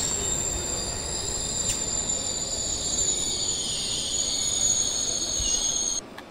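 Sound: train braking in video game Train Simulator 2022

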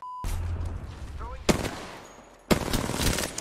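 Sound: gunfire in the video game Apex Legends

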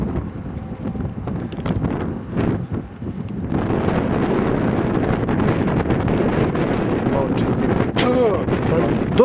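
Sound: wind blowing during a bicycle ride

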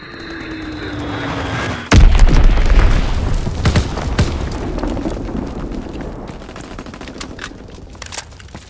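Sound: Azon bomb explosions in a World War 2 video game

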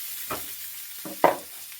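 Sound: sautéing ginger, green chili, tomato and garlic in a pan

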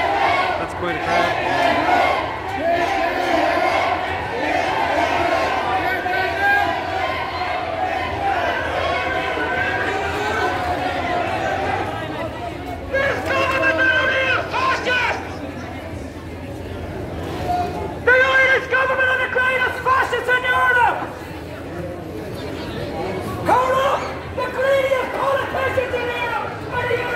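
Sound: crowd of people chattering

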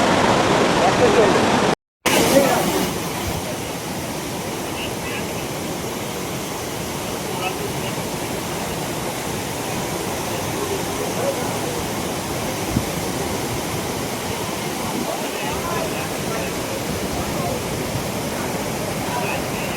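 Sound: Dassam Falls waterfall roaring, Kanchi river, Ranchi

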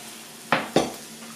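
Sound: beans with meat in tomato sauce cooking in pot

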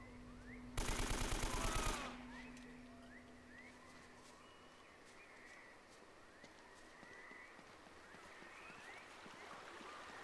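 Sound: enemy gunfire in a video game

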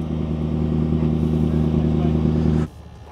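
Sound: McLaren P1 GTR race car being set up for parking

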